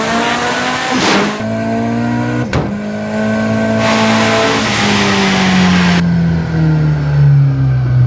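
A turbocharged K-series Honda Civic FD takes off at full throttle, its engine note climbing loud and close, then dipping at sharp gear changes before rising again in a long sustained pull, with no voices.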